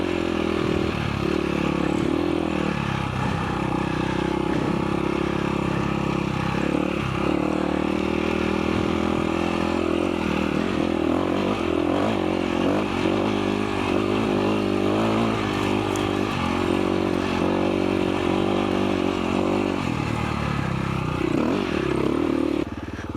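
A KTM 525 EXC enduro motorcycle ridden off-road in the Algarve, its engine droning loud and continuous with shifting revs, plus occasional clatter and scrapes from the terrain, and no voices heard.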